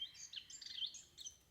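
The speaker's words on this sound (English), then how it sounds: "The bird's parents chirped with joy and gratitude, their tiny wings fluttering in excitement." Small birds chirp and twitter in quick, high overlapping bursts, fairly faint and alone against a quiet background, in a calm outdoor setting.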